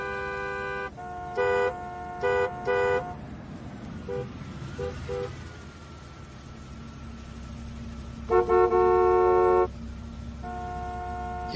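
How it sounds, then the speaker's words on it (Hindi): Several short bursts of car horns honk in a rhythmic cluster, then again later with longer blasts, over a steady low rumble of heavy afternoon road traffic. "ये थर्सडे दोपहर को इतना ट्रैफिक होना जरूरी है क्या?"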